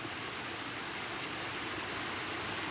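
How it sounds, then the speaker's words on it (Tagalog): Strong floodwater rushes steadily alongside heavy rain during a prolonged downpour in Lopez, Quezon Province, Philippines, a dense, continuous roar with no pauses or talk. "Oh, ang lakas ng agos ng tubig, oh. Malakas ang agos ng tubig."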